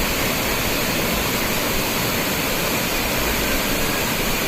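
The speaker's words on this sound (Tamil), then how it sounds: "நல்ல தண்ணியோட சவுண்டு" Thalakkuthu waterfall near Oddanchatram pours in a dense, unbroken roar of falling water, loud and even throughout with no voices.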